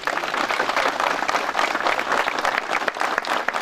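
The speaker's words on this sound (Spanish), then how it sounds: "También el aplauso de todos ustedes." A crowd applauds steadily, dense clapping filling the space at close range without pause for a few seconds.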